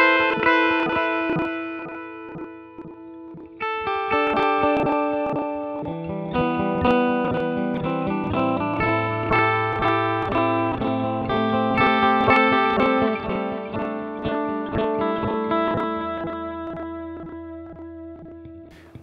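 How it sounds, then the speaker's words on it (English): Line 6 Helix glitch delay on a distorted, effects-heavy guitar, its repeating echoes chopped into stuttering slices that stack into dense layered tones, loud and steady for the whole stretch with no talking. "we get this strange kind of slicing of our original delayed echo."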